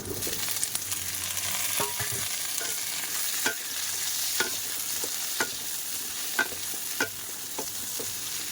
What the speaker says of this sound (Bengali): পেঁয়াজটা একদম লাল লাল করে ভাজে নিয়েছি ওল দিয়ে দেবো